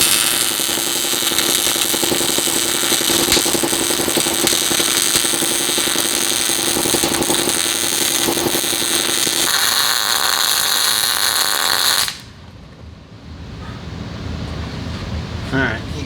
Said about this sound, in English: So I'm going to go ahead and MIG weld this up.